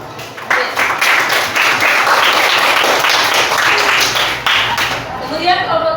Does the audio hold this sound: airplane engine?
no